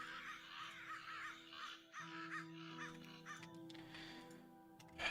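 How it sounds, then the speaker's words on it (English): Crows caw loudly from the trees of a dense forest, several repeated harsh calls overlapping across the whole stretch, fairly close over quiet background ambience. "the crows are so fucking loud"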